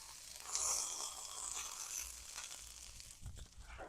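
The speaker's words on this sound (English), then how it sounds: "I've got some tomatoes and peppers roasting away to be able to make some salsa." Tomatoes and peppers roast in a frying pan, giving off a steady, busy crackle and sizzle with sharper pops that swell and fade. The sound is close and continuous, and no one speaks.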